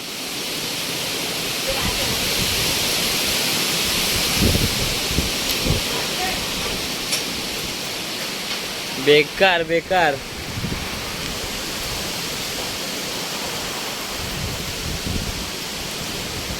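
A strong monsoon windstorm with heavy rain roars in a continuous broadband wash, loud and steady throughout, with a person briefly exclaiming partway through.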